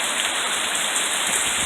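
Heavy summer rainstorm pouring down over a porch garden with tomato plants, a loud, dense, continuous hiss of rain close by with no breaks.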